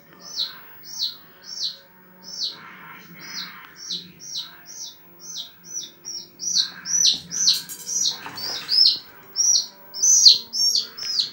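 Young chick chirping in a home, a steady run of high, short peeps that grow louder and denser over time, close and alone without talk.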